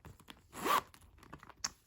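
A single quick zipper pull on the back zip pocket of a Mulberry leather bag, a short rasping sweep in the middle of an otherwise quiet moment, close and clear.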